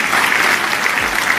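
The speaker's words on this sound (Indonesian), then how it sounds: "tepuk tangannya yang kenceng. Itu tanda Anda percaya." Loud, dense applause from a church congregation fills the whole stretch as a continuous wash of clapping, with no break.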